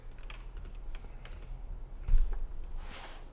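Quick clicking keystrokes on a computer keyboard, fairly close and moderately loud, with a brief heavier thump partway through and no talking.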